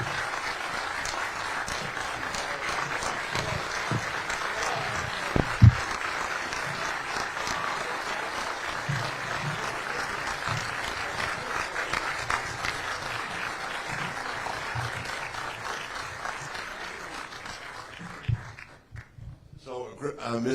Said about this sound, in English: Big round of applause for Misty, guys.